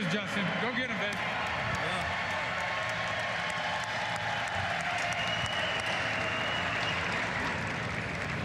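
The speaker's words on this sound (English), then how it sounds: "I'd like all of you to join me in cheering on Justin as his wish comes true" Crowd applause and cheering at the 2024 NFL Draft, a dense, continuous roar of clapping and voices filling the space at steady loudness throughout.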